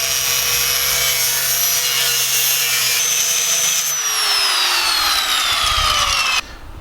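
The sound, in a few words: angle grinder cutting exhaust reducer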